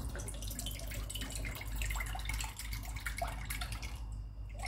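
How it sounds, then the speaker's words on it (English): Pink milk pouring into a bowl while making popsicle ice cream, a steady close liquid stream with dripping splashes running throughout, no talk. "In a bowl, you add your pink milk."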